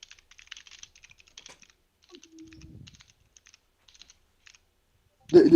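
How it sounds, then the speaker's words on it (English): Light, scattered keystrokes on a computer keyboard tap at an uneven pace, soft and close, with a brief low tone in the middle and a louder burst of sound at the very end. "We have the keyboard sounds now."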